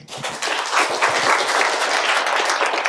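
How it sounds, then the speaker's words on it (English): A room full of listeners breaks into applause at a talk on time management, giving a dense, even spell of clapping that is fairly loud and close and stays steady throughout with little talk over it. "Round of applause, great job."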